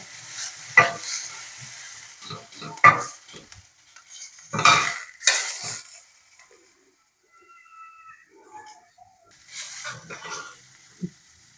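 Tomatoes sautéed and stirred in a pan for an okra chutney, heard as several loud scraping stirs and spatula clatters against the pan with a soft sizzle and quiet gaps between strokes.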